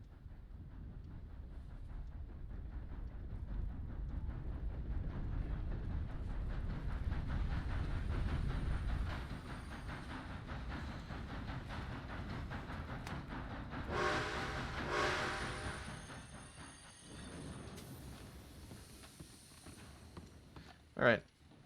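A train passes in a roleplay video game, its heavy rolling rumble building and fading over about twenty seconds, with loud horn blasts partway through and a short sharp knock near the end.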